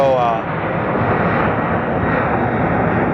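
Airplane at Sky Harbor Airport roaring loudly and steadily throughout, a broad continuous engine rumble up close with no break.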